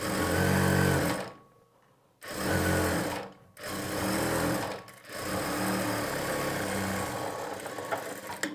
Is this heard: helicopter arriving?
no